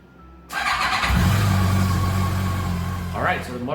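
A 2020 Yamaha FJR motorcycle engine starting after storage: a starter whir cranks and catches into a steady, fairly loud idle with a low hum, and a brief high squeal near the end.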